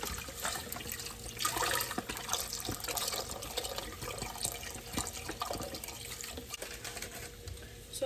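Thirty-two ounces of chicken broth pour into a pot for chicken noodle soup, a continuous splashing, gurgling stream of liquid with small drips, close and steady, with no talking.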